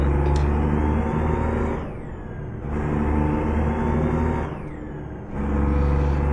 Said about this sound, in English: Pulled out right in front of that fire truck.